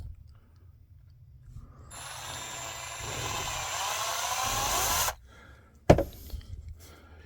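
A small drill bores into a plastic Canon 240 ink cartridge, whirring steadily for about three seconds before stopping. A sharp clack follows, then quiet handling noises.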